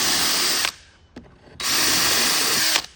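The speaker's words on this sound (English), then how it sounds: "So I'm going to drill these 2 pilot holes" Power drill boring two pilot holes into the end of a wooden bench, two loud whirring bursts of roughly half a second and just over a second, separated by a quieter gap with a small knock.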